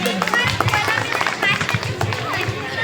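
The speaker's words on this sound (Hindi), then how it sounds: "तालियों के साथ इनका स्वागत करें।" An audience claps to welcome someone speaker at an Independence Day speech event, a dense, steady spatter of hands close by that fills the whole stretch, with crowd voices mixed in.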